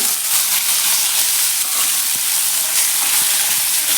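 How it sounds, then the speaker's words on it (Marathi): Potatoes frying in hot oil give a loud, dense, continuous sizzle close up, with faint occasional stirring ticks underneath and nobody speaking. "आता आपण हा बटाटा आहे तो घालून घेऊया"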